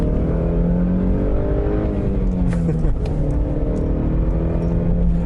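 A BMW E90 320si engine revs up and eases off while driving, heard from inside the car as a strong rising and falling mechanical drone with steady road noise underneath.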